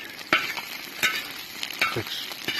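Bacon fries on a disc cooker at an outdoor breakfast, a steady close sizzle broken by a few sharp scrapes of a utensil stirring against the metal.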